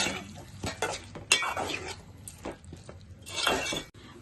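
Ginger-garlic paste is stirred into bitter gourd curry in a pan, with a spoon scraping and clinking against the metal in irregular bursts over a faint sizzle, close and fairly quiet.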